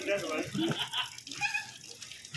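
Water runs steadily from a tap, a soft continuous splashing rush beneath people talking nearby.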